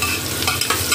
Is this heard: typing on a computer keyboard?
no